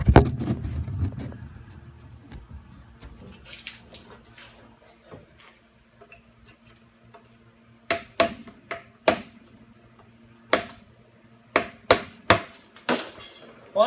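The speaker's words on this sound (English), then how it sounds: "Might just need to use the hammer here for a second." A hammer smacks the gearbox cover off a Volvo 740, a series of sharp metallic bangs in quick clusters after a stretch of quieter clanking and handling noise.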